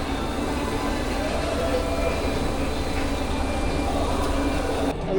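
A Karcher 75/40B sweeper runs with a steady, loud mechanical drone and rumble whose brushes spin throughout, unbroken from start to finish.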